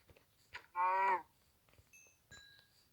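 A cow in a video game gives one short, loud moo near the start, followed by faint clicks and brief electronic tones from the game.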